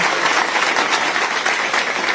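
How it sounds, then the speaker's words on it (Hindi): Loud, steady applause from a gathering of the Prajapati community in Shivpur, Varanasi, welcoming a speaker, dense clapping without a break for about two seconds. "जोरदार ताली बजाकर स्वागत करिए"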